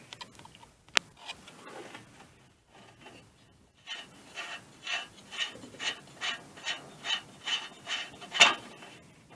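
A wrench loosens a nut on an air compressor being dismantled, a run of rhythmic rasping ratchet strokes that build in a regular pulse after a few scattered metallic clicks, close and fairly loud, no talking.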